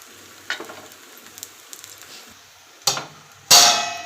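Dhapate flatbread cooks in oil on a pan, a faint low sizzle under scattered light clicks and utensil touches, then two sharp bursts of loud hissing as oil hits the hot surface near the end.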